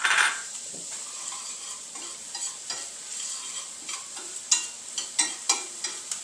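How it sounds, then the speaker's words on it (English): About half a cup of finely diced shallots sizzling in a pan sauce for a pepper-crusted steak with mushroom Marsala wine sauce, a steady hiss broken by repeated light scrapes and taps as they are stirred. "I'm going to add about a half cup of finely diced shallots to this sauce."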